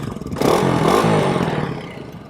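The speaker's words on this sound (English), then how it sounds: "Let's give it a little exhaust sound." A Kawasaki KLX 300 dirt bike with its small stock exhaust gives a single short rev, rising then easing off over about two seconds, close and fairly loud with no talk.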